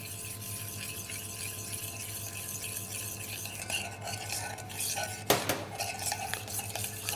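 Curry powder and sesame oil being stirred into a burger sauce in a bowl, a steady scraping swirl of utensil against the dish that runs throughout, with a sharper clink near the end and no talk.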